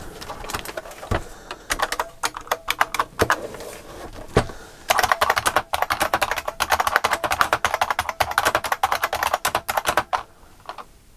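Brisk typing on a Unicomp Mini M, a Model M style buckling-spring keyboard, with dense clacky keystrokes in bursts, a few louder isolated strikes early, then a rapid steady run before trailing off.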